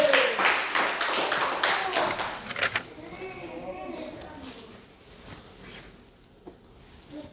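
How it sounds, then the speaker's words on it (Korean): A church congregation claps briefly and loudly, then the applause cuts off after about three seconds. A preacher's voice and quieter room sounds follow. "박수!"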